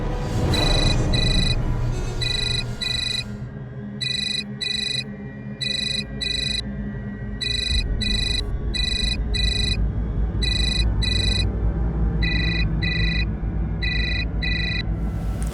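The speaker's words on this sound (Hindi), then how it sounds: "ये विक्रम फ़ोन क्यों नहीं उठा रहे हैं?" A telephone ringtone repeats in steady bursts, ringing on and on without being picked up, over a continuous low background hum with no one speaking.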